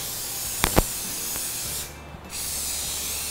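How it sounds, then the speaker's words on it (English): Non-stick cooking spray hisses briefly onto a waffle iron, a close, loud spray burst over a steady background hum, followed by a couple of faint clicks. "I need to grease it with some non-stick spray,"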